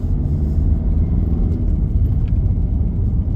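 Interior road noise of a 2018 VW Tiguan SE driving on a road, a steady loud low rumble of engine and tyres with no voices over it.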